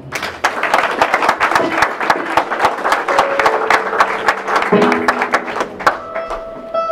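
A wedding congregation in a church bursts into dense, sustained applause lasting several seconds, a steady wash of many hands clapping with faint tones underneath.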